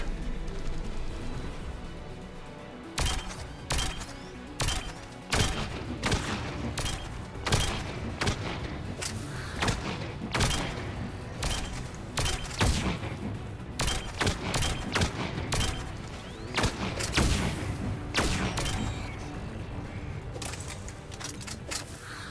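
Rapid pistol fire in the Mass Effect 3 video game, sharp loud shots in quick bursts with brief pauses, the sounds of a busy combat scene around them.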